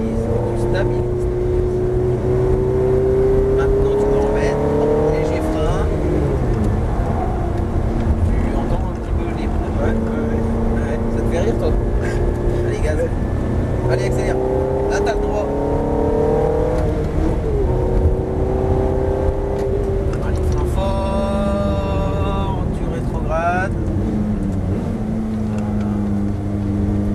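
A car accelerating on a racetrack during a driving lesson, its engine droning loud and close as revs climb and drop through gear changes, with a muffled voice talking over the engine noise.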